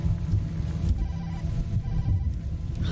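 A phone rings muffled inside a paper bag in the horror game Tokyo Dark, heard as a dull throbbing hum under a low, murky game ambience.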